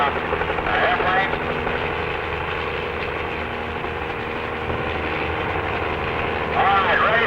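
A North American Aviation F-107 jet engine runs on the ground with a steady loud roar and whine, while radio-style voices talk over it.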